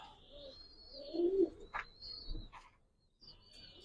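Pigeons kept by a collector in Mirpur, Bangladesh give a few soft, close coos and brief chirps, with pauses of near quiet between calls.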